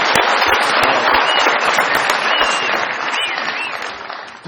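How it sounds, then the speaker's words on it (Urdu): Studio audience of a comedy show breaks into loud, dense applause for a guest named Shaukat Ali, sustained clapping close and energetic, with a few whistles cutting through before it eases off at the end. "بہت ساری تالیاں شوکت علی صاحب کے لیے۔"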